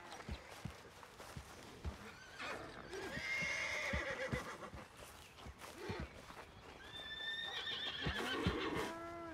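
A horse in the Red Dead Redemption 2 video game whinnies loudly several times while its hooves clop along at a walk, with faint voices between the calls.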